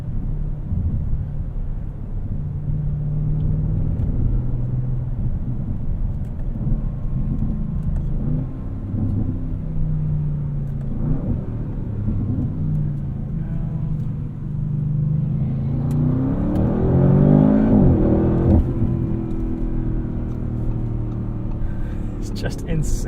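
A 2024 Audi RS7 in sport mode with stiffened suspension, driving on the road: a steady low engine drone and road rumble under continuous talk, swelling into a louder rising rev as it accelerates near the end.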